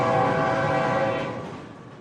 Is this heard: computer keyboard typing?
no